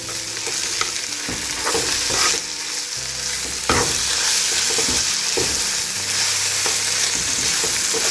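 Onions fry with ginger garlic paste in a pan for chicken biryani, a steady loud sizzle broken by repeated scraping and clinking of a spoon stirring, close and continuous with no talk.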